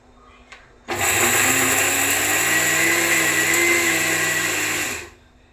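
A mixer grinder crushes a spice paste of coconut, chilli, coriander, turmeric, pepper and kanthari chilli, whirring loudly and steadily for about four seconds after a quiet start before spinning down, with no talking.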